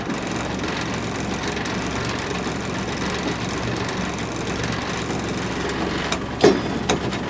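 A car engine idles steadily in a cold shed, a dense continuous rumble with knocking texture throughout and a brief louder clunk near the end.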